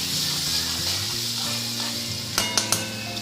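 Garlic and a pinch of asafoetida hit oil already holding crackling cumin, giving a steady close sizzle followed by three quick metallic spoon knocks against the pan near the end.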